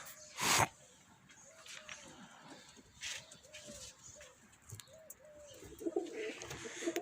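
Pigeons cooing in a loft with young birds, soft repeated coos scattered throughout, faint and fairly close, with a sharp louder noise near the start and a brief dog-like sound in the background.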